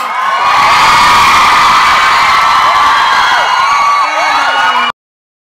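A large crowd at a 2009 Thai awards ceremony screams and cheers continuously, high-pitched shrieks over a dense roar, loud and unbroken before cutting off abruptly.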